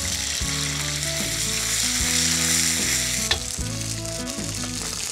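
Ginger and green chili paste is stirred and sizzling steadily in a hot frying pan while cooking pumpkin beans masala, with a sharp scrape or clink partway through.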